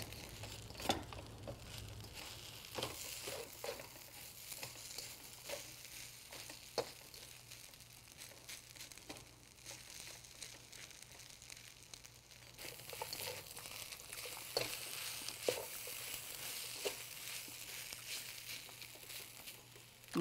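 Shrimp fried rice with green onion sizzling steadily in a pan, with irregular scraping and crinkly stirring clatters across a long stretch and a brighter, louder sizzle in the later half.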